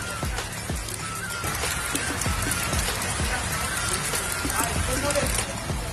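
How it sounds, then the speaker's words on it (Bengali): Steady rain falls outside in green surroundings, a dense, even hiss of drops on surfaces with occasional heavier patters throughout. "বাইরে তাকিয়ে দেখলাম বৃষ্টি নেমে গেল"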